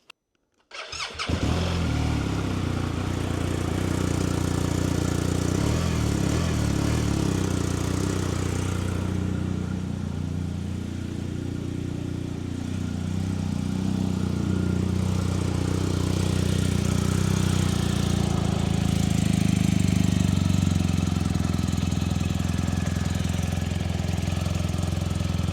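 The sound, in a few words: engine started and idling after repainting valve covers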